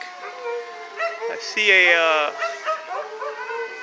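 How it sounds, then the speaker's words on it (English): A dog howls and whimpers somewhere nearby during a neighborhood power outage, one long wavering howl rising among shorter yips, while someone talks over it. "Poor dog's over here howling."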